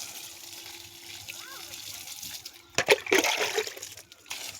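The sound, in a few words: watering garden plants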